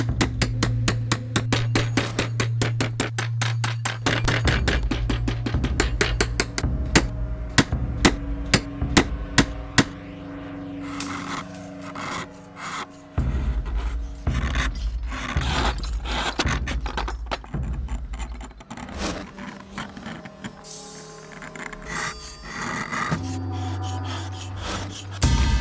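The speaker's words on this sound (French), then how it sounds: "On polit la forme de la pierre à ancre à l'aide du burin et de la pelle." Chisel and spade shaping and polishing a She inkstone, a long run of rapid metallic taps and scraping strikes against stone, close and loud, with a few pauses and changes in rhythm, no voices.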